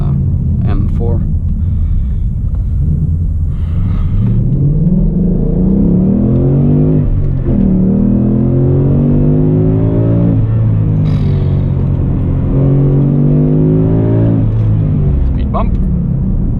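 A 2018 Ford Mustang GT V8 accelerates hard on a night drive, its engine note rising repeatedly in loud climbing sweeps through the gears, heard from inside the cabin while people talk over it.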